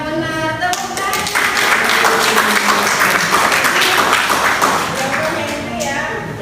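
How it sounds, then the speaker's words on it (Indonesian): A classroom audience bursts into loud, sustained clapping and applause, with voices mixed in beneath it before it tapers off. "Tepuk tangan."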